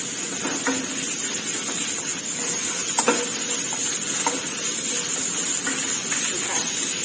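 Pork sizzles as it is stir-fried in a pan, a steady frying hiss broken by several sharp spatula scrapes and taps against the metal.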